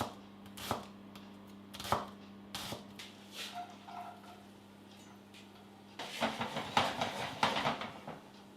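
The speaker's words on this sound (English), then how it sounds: "I'll chop half a small onion and fry it in the fat from the pancetta." A knife chops half a small onion on a board, giving quick knocking cuts in short clusters, then a denser run of rapid chopping near the end, close and fairly quiet.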